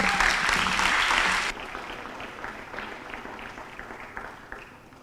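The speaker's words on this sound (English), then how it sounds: "please applaud as Kaya Shah enters the stage" Audience applause at a school graduation ceremony, dense and loud for about a second and a half, then dropping to a softer, thinning patter of scattered claps that fades out.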